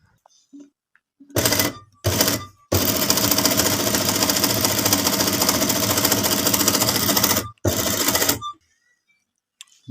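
A tailor's sewing machine stitching lines of black thread onto a jeans suit: short bursts, then a long steady loud mechanical whir lasting several seconds, a pause and another burst, close and alone without talk.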